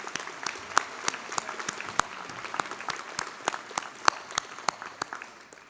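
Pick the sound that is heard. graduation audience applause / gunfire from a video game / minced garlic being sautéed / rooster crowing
graduation audience applause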